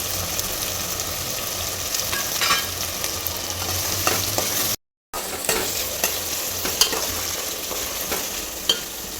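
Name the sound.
curry leaves and onion frying in oil while stirred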